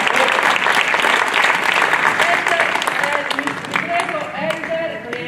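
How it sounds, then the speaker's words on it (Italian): An indoor audience breaks into sustained applause, dense and loud at first and gradually thinning, with voices talking underneath. "Prego Elder e Andrea Camposaragna, venite qui davanti a prendere un applauso"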